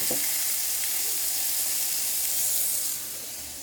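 Steaks sizzle steadily on a PowerXL smokeless indoor electric grill, a close, continuous bright hiss of frying fat that stays constant before easing slightly near the end.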